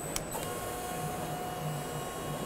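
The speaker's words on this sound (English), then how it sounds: "This is your normal hydraulic machine." A steady mechanical drone from a conventional industrial hydraulic machine, with a constant tonal hum, continuous and fairly loud throughout, with a brief higher whine near the start.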